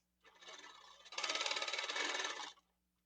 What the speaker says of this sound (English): Now I'm going to quilt a little bit, and this is freehand quilting that I'm doing right now.